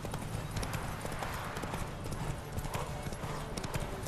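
Horse hooves galloping in The Witcher 3 video game, a quick steady clip-clop rhythm running continuously at moderate level, with a faint voice now and then.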